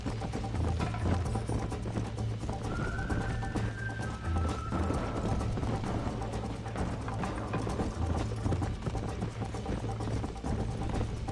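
Hooves clip-clop in a quick steady gallop in Red Dead Redemption on PC beneath a constant low hum, with a brief whistling tone midway and no speech.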